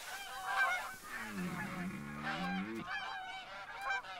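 A flock of geese honking repeatedly in open country during a hunt, the calls overlapping in a steady chorus with several louder, closer honks rising above the rest.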